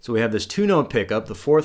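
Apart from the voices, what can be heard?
No everyday noise stands out behind the speech.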